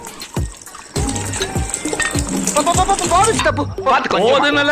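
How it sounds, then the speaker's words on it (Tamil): Water poured into a pot of home-made beef biryani with seeraga samba rice, splashing and gushing steadily up close while someone talks over it. "நம்ம தண்ணி ஆட் பண்ண போகிறோம் தண்ணி எவ்வளோனா ஒரு கிலோ அரிசிக்கு ஒன்றே கால் லிட்டர் தண்ணி ஆட் பண்ண போகிறோம்"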